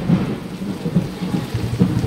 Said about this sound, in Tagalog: Umuulan o.